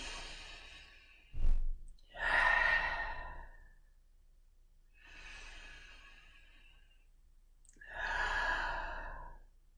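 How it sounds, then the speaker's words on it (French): A person takes slow, deep breaths, heard as several long, soft inhales and exhales up close with quiet pauses between them. "Prenez 3 grandes respirations."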